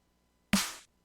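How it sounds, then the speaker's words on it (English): A single ghost snare drum hit, a sampled drum-and-bass snare with its attack transient softened, sounds once as a short, soft, fairly bright burst that decays within about a third of a second. "So I'm going to have to make a ghost snare out of this snare."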